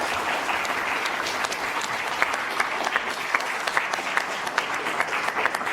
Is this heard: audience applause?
yes